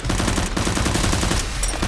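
Rapid, loud, continuous shots ring out in a staged fight with silver Nerf guns against a SWAT officer, blending with dense background sound.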